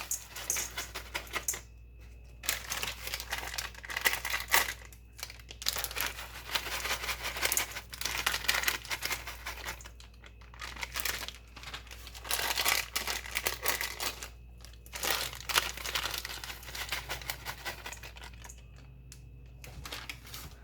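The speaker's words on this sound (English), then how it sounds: "now I'm going to throw in these small bags of sunflower kernels" Small bags of sunflower kernels crinkle and tear open and the kernels pour out in repeated bursts of close, crisp rustling and pattering, with short quiet pauses between handfuls.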